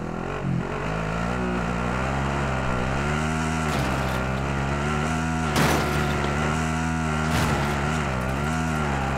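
A vehicle engine in a military shooter video game drones steadily and loudly throughout, its pitch rising and falling gently as it drives, with occasional brief bumps and no talking.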